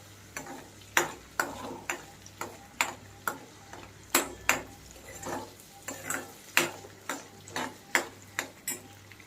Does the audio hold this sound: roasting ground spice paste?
yes